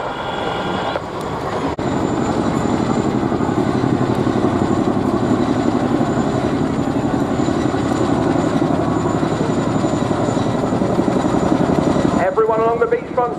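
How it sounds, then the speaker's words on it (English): Helicopter rotor noise with a rough blade-flap thump as the aircraft descends along the beachfront at the Bournemouth Airshow, steady and loud for most of the clip before cutting off near the end. "Along the beachfront's getting a little taste of that delicious blade flap sound as the aircraft moves down"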